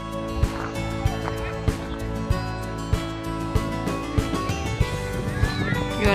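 A pony on a children's ride in Kuopio, Finland, clops along in a steady, evenly spaced rhythm of hoofbeats, with a neigh-like call under a constant hum of outdoor background noise.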